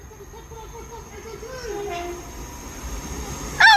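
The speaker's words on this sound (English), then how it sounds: "Oh, it's Avanti West Coast class 807003." An Avanti West Coast class 807 electric train passes through Huyton station with a building rail rumble and rising whine, ending in a sharp squeal near the end, while a voice speaks over it.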